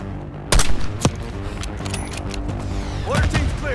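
Mortar fire in the Call of Duty: Black Ops 6 video game: heavy booming impacts and sharp gunfire bursts, loud and close, with a second cluster of blasts near the end over a rumbling battle background.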